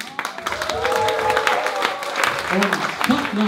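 A live audience at a comedy rodeo finale breaks into applause for a dance school, steady clapping with crowd cheers and voices woven through for a few seconds.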